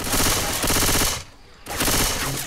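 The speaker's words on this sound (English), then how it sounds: "Stop fucking shooting me" Rapid automatic gunfire from the video game Left 4 Dead 2, loud and close, in sustained bursts broken by a brief pause near the middle before firing resumes.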